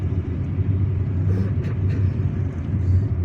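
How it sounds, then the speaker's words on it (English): A car drives through the city streets of Algiers toward downtown, a steady low engine and road rumble heard from inside, continuous and moderately loud. "And now I'm driving on the street that will lead me downtown."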